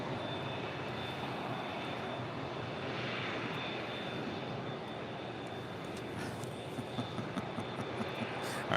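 A Cathay Pacific Cargo Boeing 747-400 comes in to land at LAX, its steady broadband jet roar holding level throughout at moderate distance, with a few sharper bumps near the end.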